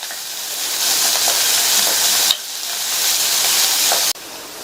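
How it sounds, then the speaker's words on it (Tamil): Green chilies, crushed garlic and curry leaves sauté on a medium flame, giving a steady broadband sizzle with a sudden drop in intensity twice, no voices. "மீடியம் ஃப்ளேமில் வச்சு ஒரு 2 நிமிஷத்துக்கு வதக்கி விட்டுக்கங்க"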